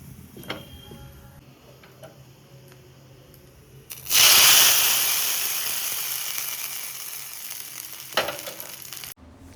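Tempering for upma hits the hot pan with a sudden loud sizzle that slowly fades into a steady hiss, after a few light ticks and clinks, with a couple of later clanks and no talking.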